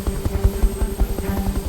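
Military helicopters, Little Birds flying close air support during a training exercise, make a loud, close, rhythmic rotor thumping with a steady engine drone underneath.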